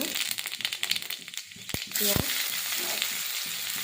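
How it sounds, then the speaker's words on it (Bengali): Panch phoron spices sizzling and crackling in hot oil in a kadai, a steady close frying hiss with brief clinks partway through and a voice speaking over it. "কড়াইতে তেল দিয়ে দিচ্ছি। এবার দিয়ে দেবো 5 ফোড়ন"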